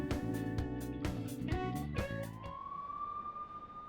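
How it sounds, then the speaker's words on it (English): A chaotic, loud layered blare of police car sirens from the Persona 5 Royal video game, dense overlapping wails and stutters for about two and a half seconds, then one long fading tone trails off; no talking. "Look at all those police cars."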